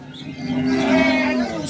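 A cow moos once at a cattle market, a long, loud, low call held steady for over a second, close by and alone.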